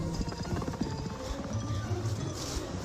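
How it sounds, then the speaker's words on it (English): Rapid, tiny cartoon footsteps for Dash running in The Incredibles, a quick patter of light taps set against fast, frantic music. "to the sound effects of Dash's tiny little footsteps"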